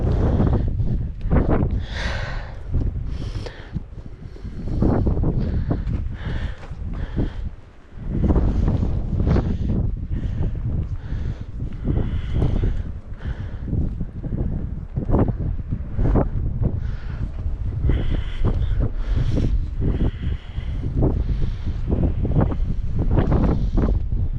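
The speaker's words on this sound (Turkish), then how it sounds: "Felaket rüzgar var." Fierce November wind sweeps a cattle pasture, gusting and buffeting the microphone in uneven bursts over about twenty-four seconds, with no one speaking.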